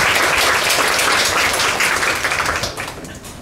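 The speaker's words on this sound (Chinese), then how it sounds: "那让我们鼓掌欢迎 KK 带给我们接下来40分钟的分享" A conference audience at a tech talk applauds to welcome a speaker, dense and continuous clapping that holds loud before thinning and fading toward the end.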